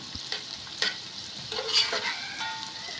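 Onions frying in a pan on an electric stove, with a steady hiss of sizzling and occasional stirring scrapes, moderately close and with no talk.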